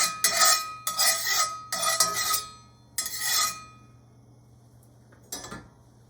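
A metal spatula scrapes and clanks against a hot oiled pan in several rapid bursts of clattering strokes, close and loud, before trailing off to a quiet hum and one last knock.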